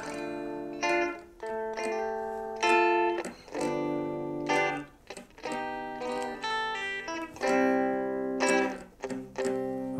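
Electric guitar playing the build-up of a song: ringing chords, slightly driven, struck in short bursts, with rhythmic stops between strums and sustained swells rising through the passage.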